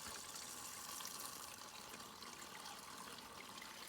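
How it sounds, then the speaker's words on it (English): Water trickles and gurgles steadily into a 2-liter hydration bladder, a faint continuous splashing stream with no voices. "we're going to just fill up our bladder with water"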